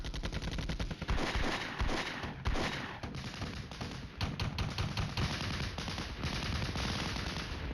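Constant crackling gunfire and heavy artillery bursts from the military wargame Flashpoint Campaigns: Red Storm, with M109 howitzers laying suppressing fire: dense, loud, overlapping shots and booms with almost no pause.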